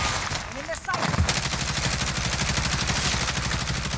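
Rapid gunfire in a military shooter game rattles on loud and near, a dense sustained burst of repeated shots filling the whole stretch, with game voice callouts mixed in.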